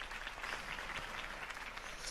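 Crowd applause at a political campaign speech in Telltale's Batman video game, a steady dense wash of clapping from a sizable audience, moderately loud and continuous without pause.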